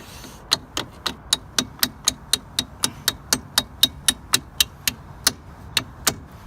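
A hammer taps a small lid into place while coilover suspension is being fitted: about twenty light, crisp metallic knocks at a steady, brisk rhythm, close and clear over a quiet background.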